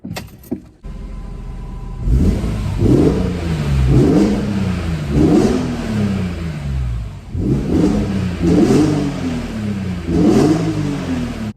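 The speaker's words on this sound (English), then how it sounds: "So let's hear what a couple of revs sound like, both from in the car and outside of the car." BMW E46 M3 straight-six on its stock exhaust, revved in a shop: four sharp throttle blips that climb and fall back to idle, loud and close, with a brief clatter before the first rev and no talking.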